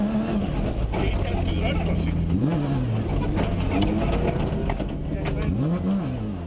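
Off-road race cars at a road crossing on the Toyota Dealer 450 rally roar continuously, engines revving and rising in pitch as they pass, with crowd voices mixed under the steady loud engine noise.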